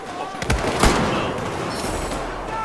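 Sniper rifle shots in Battlefield 4 multiplayer, a couple of sharp cracks amid constant gunfire and battlefield rumble.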